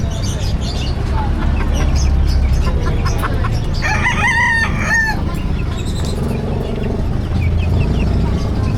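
Chickens cluck and squawk continuously at a pet market under a bridge, with a rooster's crow rising in the middle, over a busy, noisy outdoor background.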